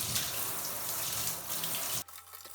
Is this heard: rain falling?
no